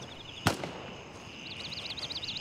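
Gunfire in the military shooter Gray Zone Warfare: one sharp, loud shot cracks early, then a rapid burst of fainter, more distant automatic fire rattles in an even rhythm.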